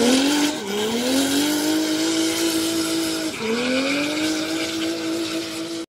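A drift car on a practice run at an Ultimate Drift event in Londrina slides across the track with a loud, sustained tyre squeal and engine wail, pitch dipping and climbing again partway through.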